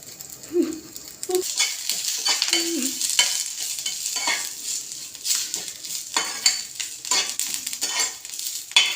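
Moringa leaves and spices fry in a hot pan with a steady, close sizzle, broken by repeated scraping and clinking as a utensil stirs them, with no talking.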